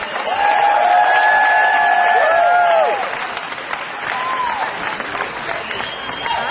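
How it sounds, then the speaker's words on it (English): Audience applause with whistles and cheering for a person named Cody at a live event, loud and sustained for about three seconds before easing to scattered clapping and crowd noise. "Give Cody a round of applause, everybody"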